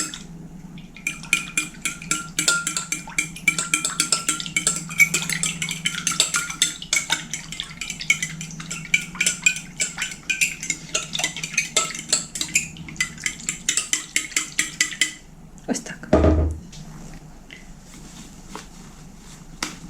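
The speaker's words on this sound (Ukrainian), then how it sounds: "Гарно все перемішаємо." A spoon steadily stirs potato dumpling ingredients in a bowl, producing continuous close clinking and scraping against the dish, then a brief louder knock near the end.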